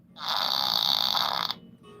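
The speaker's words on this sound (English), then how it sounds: "it's a little thing that makes fart sounds" A small novelty toy lets out a single sustained, buzzing fart noise lasting over a second, loud and close, then cuts off abruptly into quiet.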